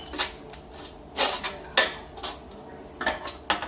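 Fire-roasted tomatoes are tipped into a cooking pot in several separate clanks and scrapes of metal, spaced irregularly, close and moderately quiet against a faint kitchen background.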